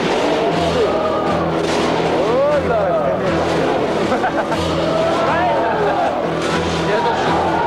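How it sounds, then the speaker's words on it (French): A single motorcycle circles inside a globe-of-death cage at about 80 km/h, its engine droning loud and continuous with rising and falling whines, while a voice exclaims briefly over the roar. "Voilà, on arrête la démonstration à une seule moto."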